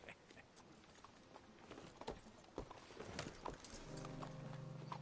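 Horse hooves clip-clop in Red Dead Redemption II, a soft, steady walking rhythm with a sustained tone rising beneath near the end.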